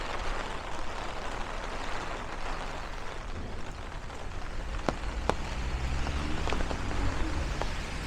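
Steady rain hisses and patters against an umbrella on a windy street walk, a dense continuous wash with a few sharper drops tapping through.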